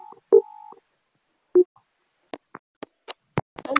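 A telephone call being dialed: a short beep and a steady tone, a single blip, then a string of brief separate ticks and tones spaced irregularly in otherwise silent air.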